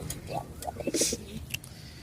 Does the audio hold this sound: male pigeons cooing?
yes